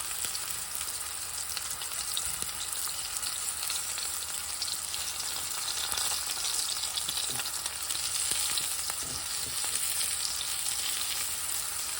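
Fish fillets fry in a hot pan with a steady, dense sizzle that stays loud and continuous throughout, with no voices over it.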